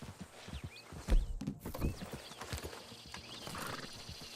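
In the video game Red Dead Redemption 2, a horse whinnies loudly and its hooves clip-clop on the ground close by, over faint outdoor ambience.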